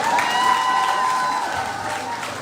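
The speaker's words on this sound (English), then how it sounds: "let's hear a round of applause again for Ms. Packets." Audience applause at a secondary school graduation ceremony, a steady wash of clapping mixed with crowd noise and a few cheers, fairly loud and continuous throughout.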